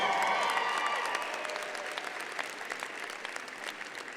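Audience applause at a 2019 Community College of Denver commencement ceremony, a dense, steady wash of clapping from a large crowd that slowly thins and fades over a few seconds.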